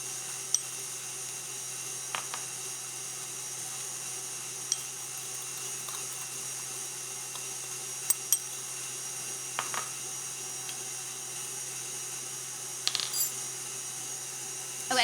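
An electric mixer whips egg whites with granulated sugar for a chocolate cloud cake, a steady high whine running throughout with a few faint clicks and taps, no talking.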